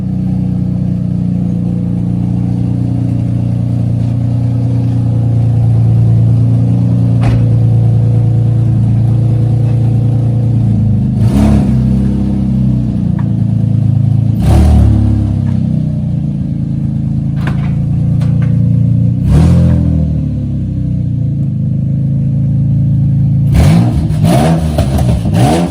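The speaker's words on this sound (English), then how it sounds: "So I'm gonna do a cold start with the stock one all ripped up with some revs" A Nissan 350Z with a stock, damaged Y pipe idles loud and close after a cold start, with a deep steady drone broken by several sharp revs and a quick cluster of blips near the end.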